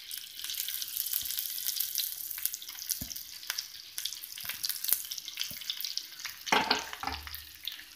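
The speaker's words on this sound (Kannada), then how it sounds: "ಈಗ ಒಂದು ಚಿಕ್ಕ ಪ್ಯಾನ್ ಬಿಸಿಗಿಟ್ಟು ಅದಕ್ಕೆ ಸ್ವಲ್ಪ ಎಣ್ಣೆ ಹಾಕಿ ಎಣ್ಣೆಯಲ್ಲಿ ಈರುಳ್ಳಿಯನ್ನು ಸ್ವಲ್ಪ ಫ್ರೈ ಮಾಡಬೇಕು." Onions frying in a little oil in a small pan, a soft crackling sizzle broken by stirring clicks and scrapes, with a louder rush of sizzling near the end.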